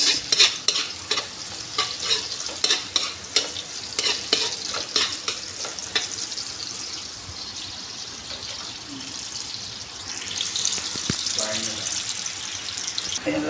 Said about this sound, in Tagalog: Yan na lakay, ininigisa na natin yung mga aromatics.